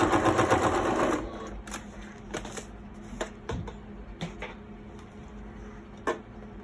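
A sewing machine runs a straight stitch down the middle of a notebook, first as a dense, fast mechanical whir, then sparse scattered clicks and taps, close by with no voices.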